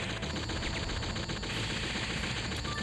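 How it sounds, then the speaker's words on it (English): A laser weapon fires in the Metal Slug XX video game, a continuous rapid burst of harsh, crackling shots that stays at a steady loud level with no pauses. "Firing the laser!"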